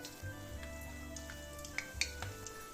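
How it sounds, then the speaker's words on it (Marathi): Coriander vadi with sesame frying in hot oil, a soft sizzle with faint clinks and pops of pieces being slipped in one by one, quiet and close, no talking. "तर आता तळून घ्यायच्या तर हळूहळू सोडायच्यात ह्या वड्या कारण तेल गरम असल्यामुळं हातावर येतं"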